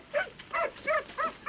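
A racing greyhound barks four times in an even rhythm, each bark short, mid-loud and moderately close, with faint background hiss between the barks.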